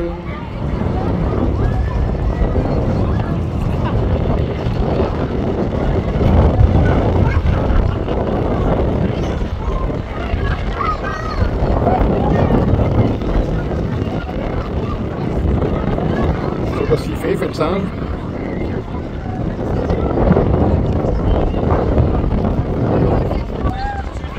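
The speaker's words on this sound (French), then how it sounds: "On a le vent en pleine face." Strong wind roars and buffets steadily against the microphone outdoors on the Lac du Der, a constant rumbling gust with muffled voices faintly underneath.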